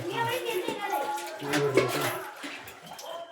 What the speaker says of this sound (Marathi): इथे बघा छोटे पुढारी पाणी भरतायत